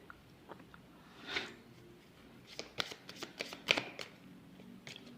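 Tarot cards being shuffled by hand, soft riffles and crisp flicks in uneven short bursts, quiet and close, with no voices.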